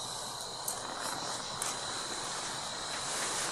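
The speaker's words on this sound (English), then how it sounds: "you can hear the EDI actually buzzing" EDI meter buzzing with a steady high electronic whine, faint and continuous throughout, with a few soft clicks and a low hiss beneath, no talk.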